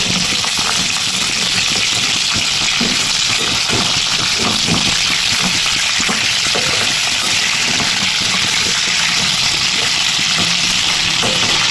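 Fish frying in a pan on a gas stove, a loud continuous sizzle and crackle with a steady hiss throughout, close by and without talk.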